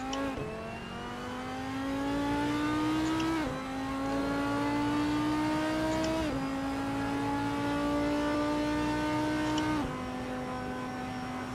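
A race car on the Kyalami circuit in Assetto Corsa, its engine whining steadily higher at full throttle through several gear changes, dipping briefly under braking, then pulling hard again, with no voices.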